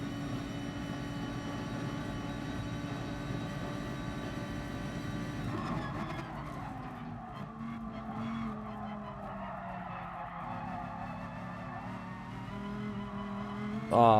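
A Lamborghini race car in Gran Turismo Sport drones with a steady high engine note that shifts pitch as it slows, with tire squeal and skidding, loud and continuous without speech.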